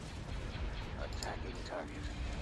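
Starship guns fire in a space battle in the video game Star Wars: Empire at War: a dense, continuous roar of blasts and rumbling at fairly low level, with no clear gaps between shots.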